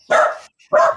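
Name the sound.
dog barking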